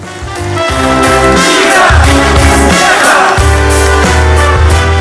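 A live comedy show audience bursts into loud, dense applause with cheers and whoops, a close, continuous roar of clapping that swells and holds for several seconds.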